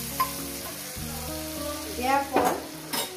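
Spiced water poured into a pan of frying fish makes the oil hiss and sizzle, with clinks of a spoon against the pan and a burst of bubbling sputter near the end; a voice speaks briefly.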